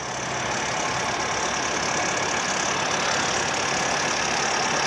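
A 2023 Bobcat T66 R series skid steer idles with a steady, unbroken engine rumble and broad hiss, constant in level throughout and heard alone.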